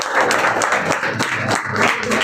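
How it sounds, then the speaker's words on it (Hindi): An audience applauds to welcome guests at a live event, a dense and steady roar of many hands clapping that stays loud and close for about two seconds. "जोरदार तालियों से इनका स्वागत।"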